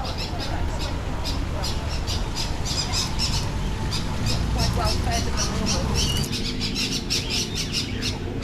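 Birds squawk and chirp continuously in a netted Kuala Lumpur bird sanctuary, a dense chorus of sharp repeated calls at mixed distances, with a person speaking over them.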